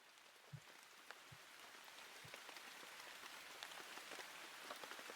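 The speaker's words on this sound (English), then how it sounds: "And we just have the rain sounds." Steady rain falls on a surface as a dense, even patter with scattered close drops, constant throughout with no voices.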